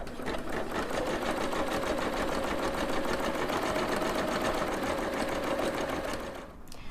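A Singer Legacy SE300 sewing and embroidery machine stitching a design, a steady fast mechanical whir with rapid needle ticking running continuously for several seconds, then stopping abruptly near the end.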